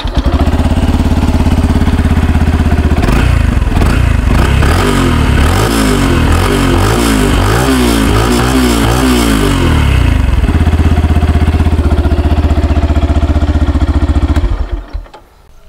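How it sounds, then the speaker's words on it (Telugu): A 2025 Yamaha FZ-X motorcycle engine idles with a steady, loud exhaust thrum, then gets a few quick revs that rise and fall in the middle before settling back to idle and cutting off at the end. "ఒకసారి బైక్ ఇంజన్ని ఆన్ చేస్తాను, అంటే బైక్ని ఆన్ చేస్తాను, ఎగ్జాస్ట్ సౌండ్ ఏ విధంగా ఉందో చూద్దాం"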